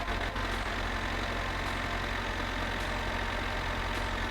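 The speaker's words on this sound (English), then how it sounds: "is the engine revving like this today?" A car engine in the video game My Summer Car drones at a steady, loud idle, with a continuous low rumble and no speech.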